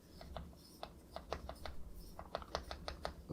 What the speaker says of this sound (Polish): A teraz sprawdźmy jak głośne, a raczej jak ciche są te przełączniki